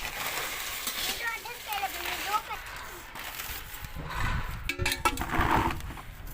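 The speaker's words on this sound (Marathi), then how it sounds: "पहिली मिरची जशी भाजली तशाच पद्धतीने ही पण मिरची भाजून घ्यायची आहे" Dried chilies roast and sizzle in hot oil for Maharashtrian kala masala, a steady crackling fry with scraping stirs growing louder toward the end.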